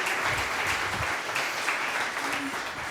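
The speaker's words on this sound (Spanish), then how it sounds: "Le damos un aplauso, sí, por favor." Steady audience applause following a conference talk on robotics and artificial intelligence in the public sector, dense and sustained throughout at an even loudness, with no voices over it.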